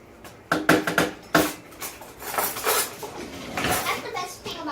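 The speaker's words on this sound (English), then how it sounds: "the best thing about chopping ice" A knife chops ice on a cutting board in a home kitchen, with several sharp clacks close together, then irregular scraping and clattering.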